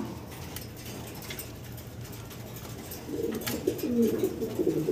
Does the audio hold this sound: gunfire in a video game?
no